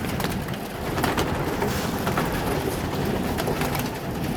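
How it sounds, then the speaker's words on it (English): Pigeons in a backyard loft: a dense, steady wash of low cooing and fluttering bird sounds with faint clicks and scratches, continuous and moderately close, with no talk heard. "feed my pigeons in the ark."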